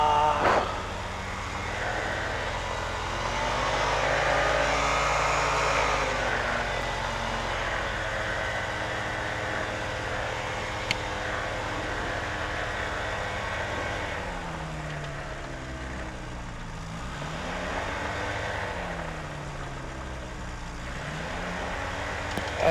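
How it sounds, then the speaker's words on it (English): A yellow Quad City Challenger II experimental light aircraft taxiing on a county airport runway, its small engine giving a steady, fairly loud drone with slowly rising and falling pitch throughout, no talk over it. "yellow experimental Eagle 5 Bravo, taxiing on runway 14, Cherokee County."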